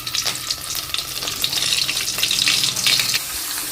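Small onions sizzle and crackle in hot oil with cumin and chilies. The frying sounds dense and steady, with bursts of spatter and occasional stirring, close and fairly loud.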